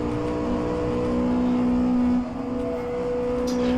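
Racing car engine in rFactor2 on the Isle of Man course, a loud, steady high-revving drone with sustained harmonic whine, holding pitch before a brief dip and recovery, close and continuous with no talk.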